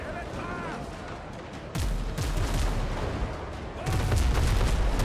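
Ship cannons firing in the naval video game Windrose, heavy booms arriving in two loud bursts over a rumbling battle bed, with people talking throughout.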